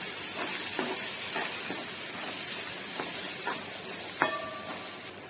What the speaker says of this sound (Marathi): सर्व जिन्नस आपण फ्राय करून घेऊया तेलात